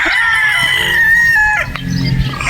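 A Boston Roundhead broodstag rooster crows up close, one long loud call with a harsh rising start and a drawn-out tail, followed by a few quieter clucks.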